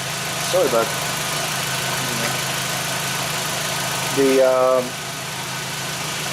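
A 2001 Audi Quattro engine idling steadily at a low, even hum throughout, with someone speaking briefly over it at the start and again near the end.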